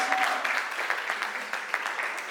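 An audience claps together at a talk on executive assistants, a steady patter of hand claps at moderate distance that fades a little over a couple of seconds.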